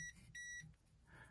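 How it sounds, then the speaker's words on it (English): A voltage detector gives two short, high, quiet beeps close by as it switches off, with a softer chirp afterward over a low, faint hum. "that was my voltage detector turning off"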